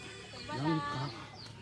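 A native chicken gives a short, close cluck in one brief burst, faint against low background noise.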